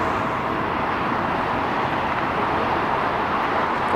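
A loud Southwest airliner at LAX fills the air with a steady, heavy engine roar, constant and close, with no talking over it.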